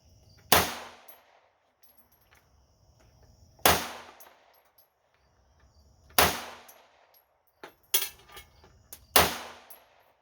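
A Hi-Point .380 pistol fires several sharp, loud shots spaced a few seconds apart, each ending in a short ringing decay, with a fainter click between them against a quiet background.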